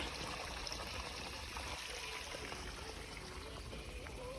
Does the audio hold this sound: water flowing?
yes